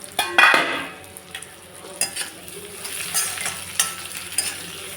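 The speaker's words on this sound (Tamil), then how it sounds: "சின்ன வெங்காயம் நல்லா வதங்கி வதங்கியாச்சான்னு ஒரு தடவை செக் பண்ணிடலாம்" Small shallots being stirred as they sauté in a pan for a mutton and potato curry, a steady close sizzle with intermittent scraping and clinking stirs of a spoon against the pan, no talking.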